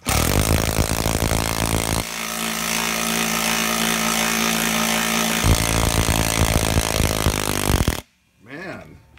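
A power tool runs continuously on the Beadbuster XB 450 tire bead breaker, a loud steady whir that shifts pitch partway through, then cuts off sharply near the end with a brief fading tail.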